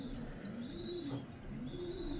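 A white racing pigeon coos in low, rolling phrases, two soft swells of cooing close by over a steady background hum, with no talking.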